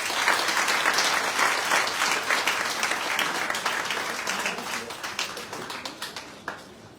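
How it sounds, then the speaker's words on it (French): Loud, sustained applause from a large crowd at a public solidarity event, dense clapping that carries on steadily and thins slightly toward the end. "je vous demande d'accueillir avec un tonnerre d'applaudissements"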